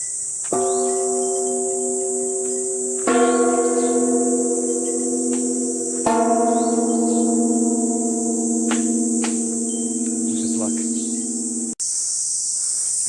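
Bells ring at a mountain-peak shrine, three resonant struck tones spaced a few seconds apart, each ringing out and decaying over a steady loud chorus of insects.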